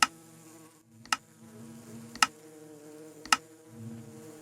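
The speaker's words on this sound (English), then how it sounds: "And there's 5 antimony bees." Buzzing of antimony bees in the Minecraft modpack All The Mods 10, a steady low insect drone with a few sharp, evenly spaced clicks over the hum and no talking.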